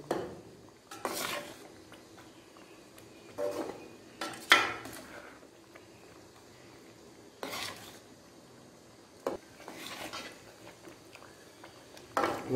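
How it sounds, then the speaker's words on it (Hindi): Suji halwa (semolina) stirred and roasted in a pan in a village kitchen, with intermittent scrapes and clanks of a spoon against the metal pan in irregular bursts over a quiet background. "और थोड़ी देर के लिए भून लेंगे इसे।"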